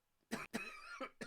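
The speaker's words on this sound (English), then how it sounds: "I'm coughing now too" A short burst of several coughs, close and fairly soft, in quick succession with brief pauses between them.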